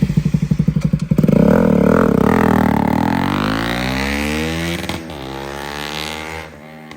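A Bajaj NS200 motorcycle fitted with an Akrapovic exhaust starts with rapid popping pulses, then climbs into a loud, sustained rising rev that slowly settles, close and without talk.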